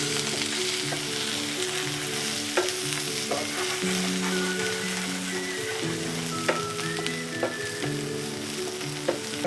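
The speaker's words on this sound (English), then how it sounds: "1 pinch of cumin seed and give it a stir" Cumin seeds stirred in a hot frying pan: a close, steady sizzle of oil with scattered crackles and pops, and occasional scraping clicks of the spoon against the pan, alone without voices.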